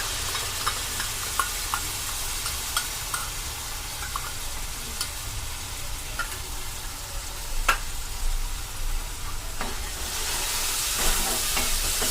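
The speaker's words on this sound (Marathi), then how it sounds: "तर आपण ही टोमॅटोची प्युरी टाकूया" Tomato puree goes into a hot pan while cooking paneer bhurji, and a steady loud sizzle and hiss of frying fills the whole stretch, with occasional stirring clicks and a brighter steamy surge near the end.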